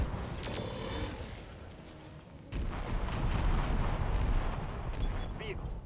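Weapon fire and blasts from the mech combat game RogueTech, a BattleTech mod, rumble in a dense, continuous wash with a sharp heavy impact partway through, followed by louder sustained booming.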